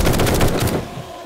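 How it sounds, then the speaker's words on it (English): Shotgun blasts in the zombie survival game 7 Days to Die, a rapid run of loud, close booming shots that cut off sharply and leave a short fading tail, with no talking. "we can go ahead and blast you with our friendly neighborhood shotgun"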